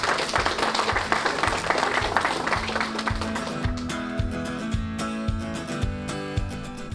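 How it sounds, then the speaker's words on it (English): Audience applause following a surprise honoring a police officer, a steady wash of clapping with some music-like tones rising underneath toward the end. "Once again, let's give him a round of applause."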